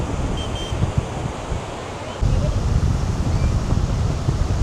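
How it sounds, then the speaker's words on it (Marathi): Sea waves roll in at Nagav Beach as a broad, continuous roar of surf mixed with wind buffeting the microphone, growing louder partway through, with no clear speech. "मस्त लाटा येत आहेत."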